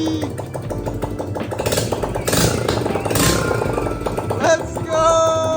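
A Honda Grom motorcycle engine runs with no exhaust fitted, giving a loud, steady, bubbling and rattling idle close by, with a few brief rises in revs and some clatter.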